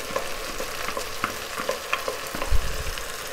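Onion and ground tomato are mixed and fried in a pan, giving a constant frying hiss with repeated soft stirring scrapes and one heavier bump near the end, and nobody talks.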